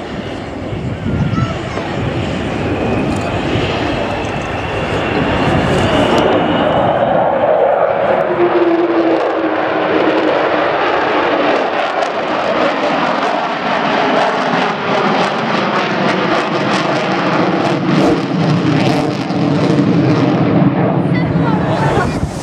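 An Avro Vulcan B2 bomber flies past at the Dunsfold air show, its loud jet roar building and sustaining with a rising howl, continuous and powerful throughout.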